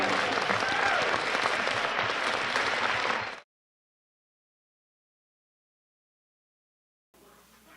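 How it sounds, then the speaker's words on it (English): An audience bursts into loud, dense applause, a crowd clapping steadily for about three seconds before the sound cuts off abruptly, followed by silence and then faint room noise. "So I think we should give them a round of applause."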